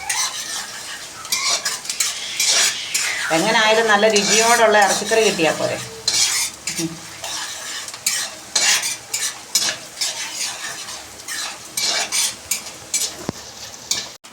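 Ginger sautéing in a pan for a chicken curry gives a steady sizzle with repeated stirring and the scrape of a utensil, while a voice talks over it and a sustained tonal sound rises briefly midway.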